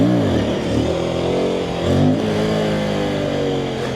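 An Aprilia RS457 motorcycle engine revs loud and close during a wheelie ride, its pitch rising and falling in sweeping surges with a dip around the middle.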